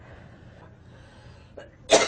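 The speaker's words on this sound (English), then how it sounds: "Still have this cough." A single sharp cough bursts out near the end after a quiet stretch, preceded by a faint short throat sound; the cough comes from a woman who is ill.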